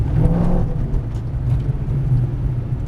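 A Ford Mustang Shelby on a drift course gives off a loud, close engine rumble with a deep steady drone, rising slightly early on and then holding as the car accelerates.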